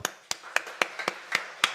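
Roughly eight sharp, close claps ring out at an uneven pace over under two seconds during a Friday church service sermon, crisp and fairly near.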